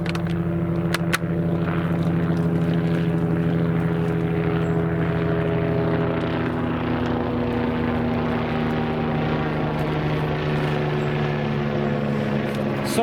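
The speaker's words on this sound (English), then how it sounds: "an helicopter coming over now" A steady engine drone of a helicopter passing overhead fills the recording, loud and continuous with no speech.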